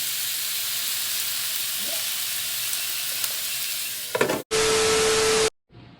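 Fish sizzles steadily in a frying pan, with a dense hiss of oil and steam throughout, a few clatters near the end, and then a sudden loud tonal burst as the sizzle drops out.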